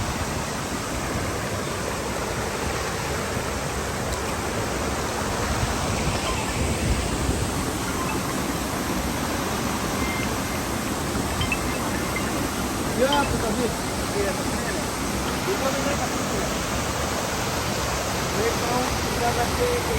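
The Kiwai waterfall in Pakistan's Kaghan Valley, fed by very cold mountain water, roars in a loud, steady, close broadband rush that holds unbroken for the whole stretch.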